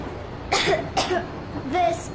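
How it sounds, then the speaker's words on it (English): A child coughs a few times in short bursts in the video game Metro Exodus, with quiet pauses between them, fairly close and without any talking. "I have this cough."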